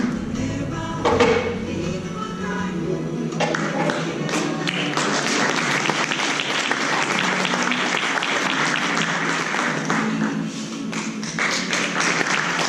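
An audience of children and adults applauds loudly and steadily at a children's magic show at a Christmas party, the dense clapping continuing throughout with a few voices rising briefly near the start.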